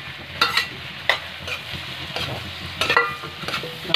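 Ginger, garlic and onion frying in a pan, a soft sizzle broken by repeated scraping and stirring strokes of a spatula, close and moderately loud.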